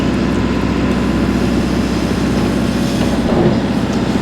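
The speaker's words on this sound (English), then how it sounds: "Backhoe effortlessly picks itself up." A backhoe lifts itself up on its own hydraulics, producing a continuous heavy rumbling engine drone with a rattling mechanical texture, close and loud throughout, with no voices.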